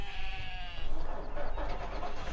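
Sheep bleat in Farming Simulator 2015 on the Old Ridge Farm map: one drawn-out bleat in the first second, then a steady low engine rumble from a small IFA truck carries on alone with no talking.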